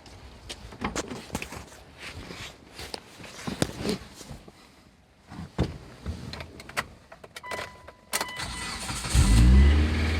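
A car engine cranks and catches after the throttle cable and coil packs are reconnected, preceded by footsteps and clunks, then a loud rising rumble settling into idle at the end.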